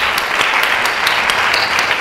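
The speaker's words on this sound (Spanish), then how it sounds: "un fuerte aplauso también para Pilar Albarracín" Masterclass audience applause for a guest, a dense, steady burst of many hands clapping at close range.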